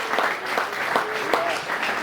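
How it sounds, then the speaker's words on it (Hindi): A church congregation claps loudly and steadily in a Bhachau, Kutch service, a dense wash of applause swelling in brief bursts with voices mixed in. "ताली बजा के जोरदार।"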